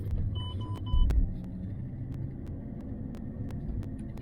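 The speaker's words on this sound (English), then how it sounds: "Our 300 quid Thesis is running and driving." A cheap, neglected Lancia Thesis engine idles with a steady low rumble and throb, a sharp clunk near the start, then an even running drone.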